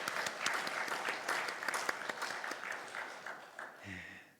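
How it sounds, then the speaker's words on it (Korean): A church congregation applauding after a prayer at a Wednesday service, a brief burst of many hands clapping that fades toward the end, moderately faint and somewhat distant. "우리 박수로 격려하겠습니다"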